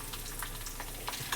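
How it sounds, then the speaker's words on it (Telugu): Garlic cloves with skins frying in hot oil for a tempering, a soft continuous sizzle with faint crackles, close and quiet. "ఇది మొత్తం ఎర్రగా వేగిన తర్వాత వెల్లుల్లి రెమ్మలు పొట్టుతో సహా ఒక 5-6 వేసేసుకోవాలి"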